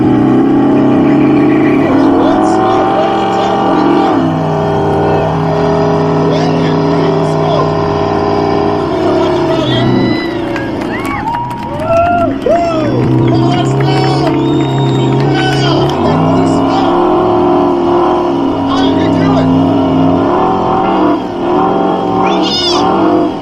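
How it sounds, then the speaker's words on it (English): Muscle cars revving hard at an outdoor burnout contest, engines roaring loud and continuous with rising and falling pitch over a steady crowd noise, with shouts and cheers scattered throughout. "We're heading down to the burnout contest. See some of these cars in action."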